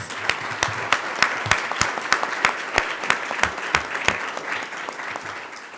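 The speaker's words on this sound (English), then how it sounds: "So let's give him a round of applause." Applause from an audience at a university board of trustees meeting, a moderate crowd clapping with distinct sharp individual claps standing out, fairly close and steady.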